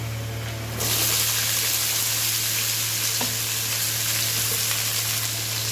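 Washed kasarakaya tipped into hot oil with golden-brown frying onions, setting off a sudden loud sizzle that settles into a steady, close, crackling fry and continues throughout.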